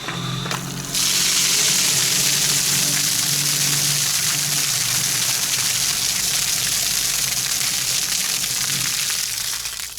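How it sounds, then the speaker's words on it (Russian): Water gushes steadily out of a small drain hole in the hull of a medium artillery tractor after collecting there over winter, a loud continuous rushing stream close by with no talk. "казалось бы, вот кажется, быстро сольется вода из корпуса"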